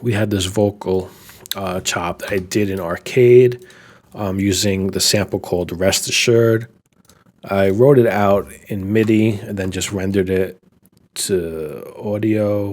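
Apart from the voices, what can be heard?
No everyday noise stands out behind the speech.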